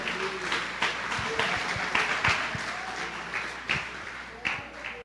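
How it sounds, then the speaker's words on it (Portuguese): Church congregation applauding during a service, a dense, steady wash of clapping hands with brief louder swells, filling the room for several seconds. "Pode até dar uma salva de palmas ao Senhor."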